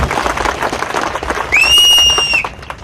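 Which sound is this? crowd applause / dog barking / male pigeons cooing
crowd applause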